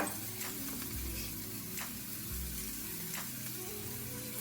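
Onion, garlic and ginger sauté in a hot pan for a Thai basil beef dish, giving a quiet, steady sizzle with a few soft stirring clicks and no talking.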